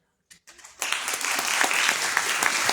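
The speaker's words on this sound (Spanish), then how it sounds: "damos la apertura con fuertes aplausos a Lorena Cordero" Strong, dense applause from a conference audience at a COP 30 event, starting with a few scattered claps and then swelling into a loud, sustained ovation that holds steady to the end.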